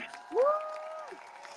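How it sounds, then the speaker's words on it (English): A crowd at a London protest cheers, with a single loud rising whoop standing out near the front over a softer, steady background of distant applause and crowd noise. "give a massive round of applause to Asa Breman!"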